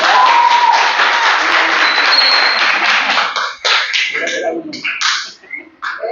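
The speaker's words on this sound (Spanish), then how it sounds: "Les pido un aplauso para Eduardo" Audience applause for a speaker at a Spanish-language science talk about the Moon landing, a loud burst of clapping that thins into a few scattered claps toward the end.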